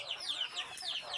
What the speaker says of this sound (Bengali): একটা খাঁচার মধ্যে দেখুন কতগুলো মুরগি রাখা আছে।